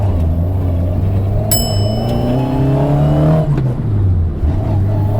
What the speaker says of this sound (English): my first drive in my new race car